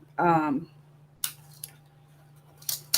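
A Coroplast sheet is cut on a plastics cutting mat, giving short, crisp bursts of crunchy cutting after a brief spoken word, with pauses in between.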